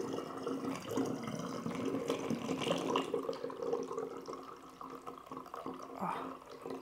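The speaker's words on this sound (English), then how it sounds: "I say, hoping that I'm not going to just spill it everywhere as I pour it in." Homemade hydrosol poured through a funnel into a bottle, a soft continuous trickle of liquid with faint splashy drips, close and fairly quiet, lasting throughout.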